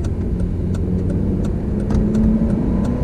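A Honda Civic FN2 Type R fitted with an induction kit pulls hard from close inside the cabin, its engine a loud, continuous rising drone with a throaty intake note as it climbs through the gears.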